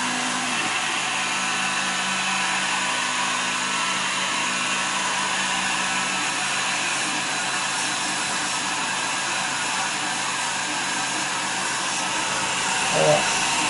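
An EnjoyWood E20 20W laser cutting machine works on plastic, producing a continuous fan-like whoosh and hiss that stays steady and fairly loud across the whole stretch, with a faint bump near the end.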